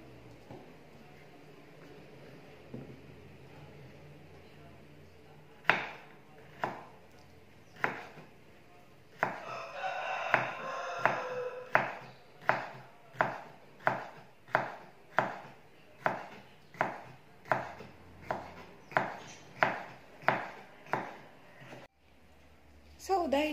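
Knife chopping ampalaya (bitter gourd) on a board for cooking, a steady series of sharp, evenly spaced cuts close up, with quiet talk in the background.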